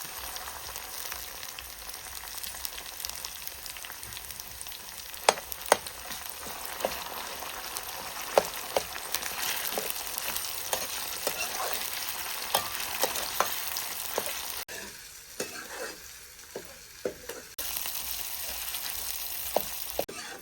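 Spices and chilli powder frying with browned onion in a pan over a wood-fired chulha for patavadi rassa: steady close sizzling with occasional sharp stirring clicks, quieting briefly near the end.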